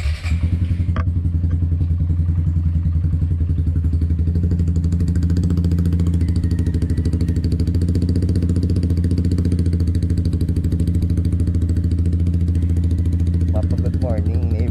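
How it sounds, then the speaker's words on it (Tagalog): A Suzuki Gixxer 155 motorcycle with an aftermarket SC Project or Akrapovic exhaust idles steadily after a cold start, a loud, close, even rumble with a faint ticking rattle that runs unbroken throughout. "Cold start."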